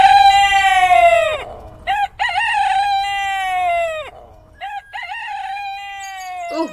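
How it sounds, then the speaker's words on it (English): A rooster crows loudly and close in several long, drawn-out calls, with chickens clucking in the short gaps between them. "Oh, well, I guess the chickens are up."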